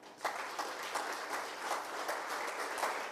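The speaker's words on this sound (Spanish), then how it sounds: "Denle un aplauso al Señor," A church congregation claps together during a Spanish-language service, a fairly quiet, even spread of many hands with a few louder claps standing out over about three seconds.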